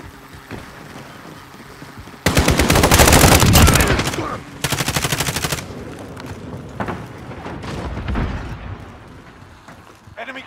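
Automatic weapon bursts during a Domination match at Suldal Harbor in Call of Duty: Modern Warfare, two loud sustained volleys of rapid fire close up, followed by scattered shots and some speech.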